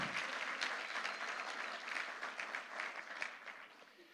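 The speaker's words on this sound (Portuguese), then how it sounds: "Quem pode dar uma salva de palmas a Jesus?" A church congregation at a Christmas worship service breaks into sustained applause, a dense, even wash of many hands clapping at a moderate distance, steady throughout with no talking over it.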